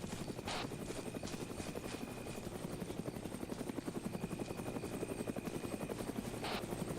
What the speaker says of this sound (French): Attention, il y a l'hélicoptère, il nous survole au nord-ouest.